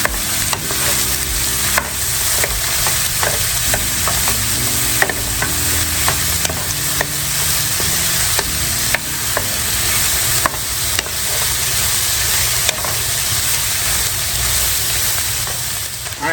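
Chopped yellow onion and two chopped jalapenos sizzle loudly in a pot for white lasagna soup, a steady close frying hiss broken by frequent scraping stirs of a utensil.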